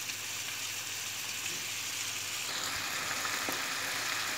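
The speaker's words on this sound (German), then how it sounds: "das bratet jetzt schon" Vegan leftovers frying and simmering in a pan, a steady soft hiss and sizzle close by with faint bubbling, continuous and unbroken.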